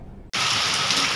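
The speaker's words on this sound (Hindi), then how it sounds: "बारिश पड़ रही है बहुत तेज।" Heavy rain mixed with hailstones pours down suddenly after a quiet moment, becoming a loud, dense, steady roar close by.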